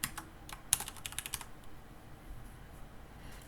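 Quiet rapid clicking of computer keys typed in short bursts, close and clear, easing off into soft background hiss.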